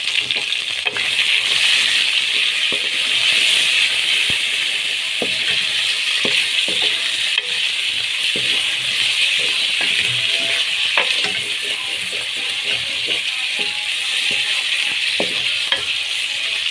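Chicken fries in hot oil in a pot with browned onion, ginger and garlic, a close, steady sizzle with scattered crackles and stirring clicks, and no talk.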